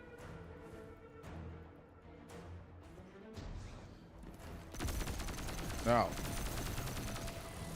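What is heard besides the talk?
gunfire in Destiny 2 video game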